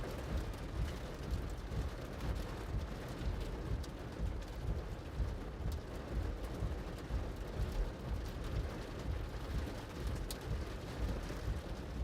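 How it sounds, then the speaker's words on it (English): Steady rain drumming down during a Phoenix monsoon storm, with hail likely mixed in, heard from inside a vehicle as a continuous dense hiss and patter without pause. "I hear hail."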